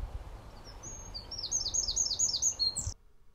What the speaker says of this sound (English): I think there's some bird sounds here